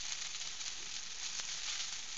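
Chow mein noodles fry in a small home wok with a steady, close, broadband sizzle that holds unbroken throughout, with no voices.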